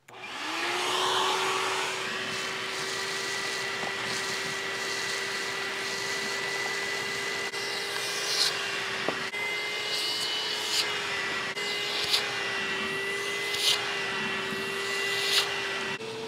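A small, old shop vacuum whines steadily and loudly throughout, with a constant high-pitched motor tone and occasional faint clicks and rattles.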